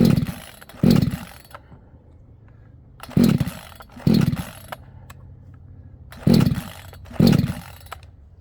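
A CMA 68cc chainsaw with a 20-inch bar being pull-started outdoors, three pairs of loud, close starter pulls and brief sputtering bursts separated by quieter idle gaps.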